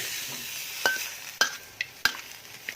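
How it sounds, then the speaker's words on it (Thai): Stir-fried vegetables sizzle softly in a pan after water is added, with sharp metallic scrapes and clinks of a spatula against the pan every half second or so, close and without talk. "เพิ่มน้ำลงไปนะครับ เพิ่มน้ำลงไปได้เลย"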